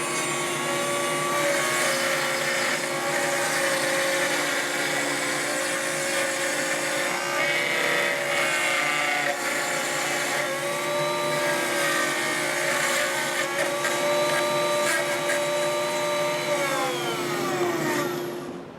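A router hogs out control cavities about 1 7/16 inch deep in a solid-body electric guitar body during a master class. It makes a loud, continuous high whine with a shifting pitch that winds down at the end, close and alone.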